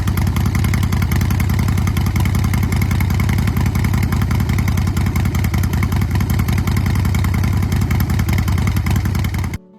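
A 2014 Harley-Davidson Softail Breakout CVO with Vance and Hines exhaust runs steadily, a loud, close, deep engine rumble that holds at an even level throughout, with no voices, before cutting off at the very end.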